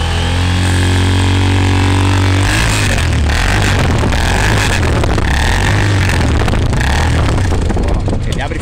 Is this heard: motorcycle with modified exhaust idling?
yes